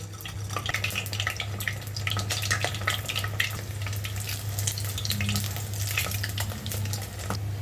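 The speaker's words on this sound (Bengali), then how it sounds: "তারপর এগুলোকে মিডিয়াম আঁচে রেখে একটু ঘুরিয়ে ঘুরিয়ে খুব ভালো করে ভেজে নেব গোল্ডেন ব্রাউন কালার করে" Two whole boiled eggs frying golden brown in oil over medium heat for egg bhuna curry, a dense crackling sizzle with frequent sharp pops and spits, plus a steady low hum underneath.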